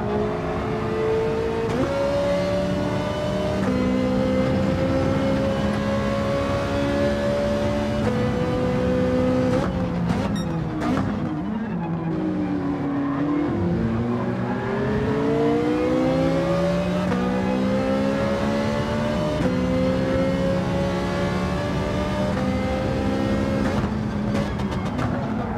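Race car engine in Gran Turismo 7, revving hard with rising and falling pitch through repeated gear shifts, one rough shift mid-run, loud and continuous throughout.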